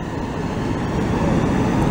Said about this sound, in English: So here's the train leaving